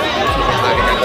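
Dense crowd at a village fair (mela) near the Samrat Ashok gate, a steady hubbub of overlapping voices and bustle close around, with someone talking over it.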